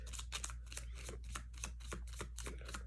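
Tarot and Lenormand cards are shuffled in a quick, even riffle of soft papery slaps, about three per second, heard up close and faint over a steady low hum.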